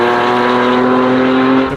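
Porsche Carrera S fitted with FabSpeed headers and a 200-cell Sport Cat X-pipe, its engine droning loud and steady with a strong tonal exhaust note held throughout, cutting off at the end.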